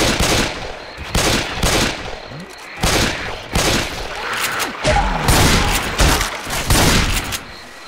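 Gunfire in the zombie shooter Left 4 Dead 2 on a swamp level, with bursts of rapid automatic shots and heavy booms coming in clusters separated by short pauses, loud and close.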